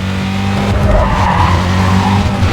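Ford car drifting on the handbrake in Need for Speed Carbon, loud sustained tire squeal over a steady engine drone, continuous for the whole stretch with no voices.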